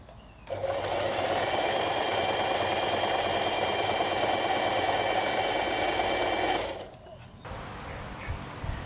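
A sewing machine stitches the hem edge of a lined summer top in one continuous, close, whirring run of about six seconds, then stops abruptly, leaving quiet room sound.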